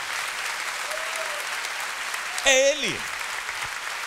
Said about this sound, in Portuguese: Seu aplauso está muito fraco